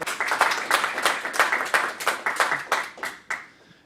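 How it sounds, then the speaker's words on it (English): Small audience claps after a university Curriculum and Instruction talk, steady overlapping hand claps from a modest group in a room, fairly close, fading out toward the end with no talking. "If we could give him a round of applause, that was great"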